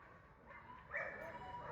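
Several dogs bark and yip in an agitated cluster at moderate distance, the noise swelling partway through amid steady background noise and a voice.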